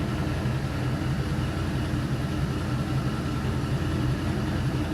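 Warmed-up LS V8 engine idling at about 650 RPM, a steady low rumbling drone with an even pulse and constant loudness throughout, close by with no talking.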